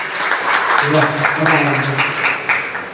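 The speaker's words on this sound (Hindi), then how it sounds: "तो एक बार दिल से जोरदार सभी लोग मिलकर जोरदार तालियां बजाएंगे।" Audience applause at a lifestyle marketing company event, loud sustained clapping from a crowd lasting the whole few seconds.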